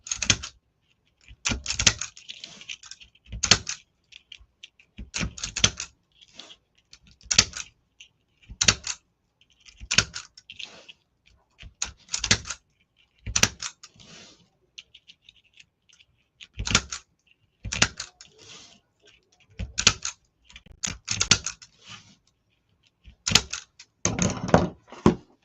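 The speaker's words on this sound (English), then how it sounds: "let's go ahead and clip these off. Again, a zip tie cutter. Tightens and cuts your zip ties all at once." Repeated sharp ratcheting clicks and snaps from a zip tie cutter tightening and trimming zip ties on a moose-themed flower decoration, coming in short bursts separated by quiet pauses.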